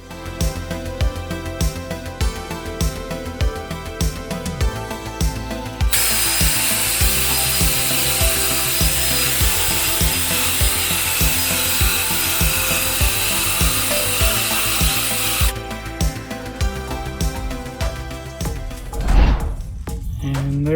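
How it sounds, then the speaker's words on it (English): A power drill fitted with a polishing pad buffs a wheel with Flitz polish, giving a steady whirring and rubbing hum that swells into a louder, brighter grind midway and then eases back before stopping. "I have my drill, which I can use to then polish it out"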